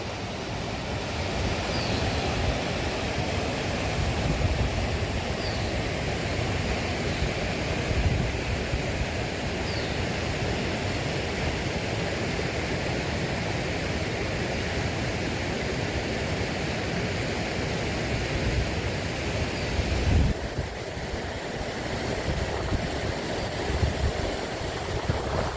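A snowmelt mountain stream flows through a Kashmir forest near Daksum, Kokernag, giving a continuous, steady broadband rush of water that stays close and fairly loud throughout, with no voices.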